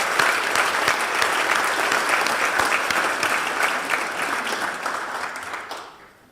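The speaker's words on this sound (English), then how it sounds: "if we can have a round of applause for our sponsors today" A State of the City luncheon crowd claps for the sponsors, a full, even burst of applause that gradually tapers and dies away in the final second.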